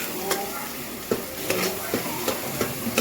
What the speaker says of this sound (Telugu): అప్పుడే పేస్ట్ చేసి పెట్టుకున్నాం కదండి మసాలా అంతాను, ఇందులో ఫ్రై చేసుకుంటున్నానండి